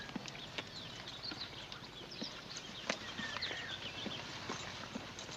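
Horse hooves clop at an irregular walking pace, several animals moving together outdoors, with faint birdsong in the background.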